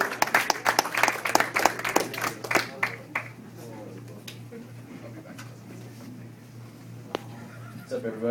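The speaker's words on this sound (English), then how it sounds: "Give it up for Mark Erickson" A comedy club audience claps for a comedian coming to the stage, a lively patter of applause up front that thins out after a few seconds into quieter room tone, over a low steady hum.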